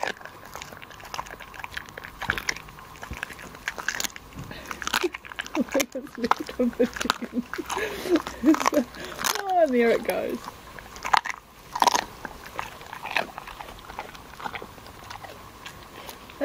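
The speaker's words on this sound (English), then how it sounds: "A dog eating an entire chicken." A dog crunches and gnaws through a whole chicken in irregular wet bites and cracking crunches, up close, while a person talks intermittently.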